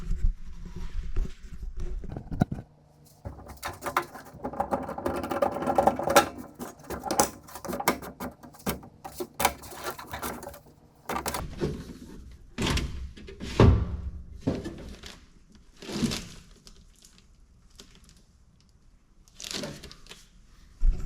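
A Grand Wagoneer's roll-down door window is lowered by hand to the bottom of the door with its clamp removed, giving close, uneven clunks, knocks and scraping rattles inside the door, with a few quiet pauses.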